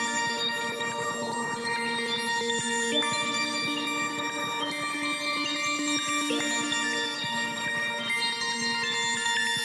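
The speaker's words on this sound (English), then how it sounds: "using a synth called Sparkly Texture out of High Tech Sound Kit by 72-bit" Sparkly Texture preset synth from the High Tech Sound Kit playing a wild arpeggiated pattern across octaves, a dense, shimmering, bell-like wash of bright sustained tones at even level with no voices.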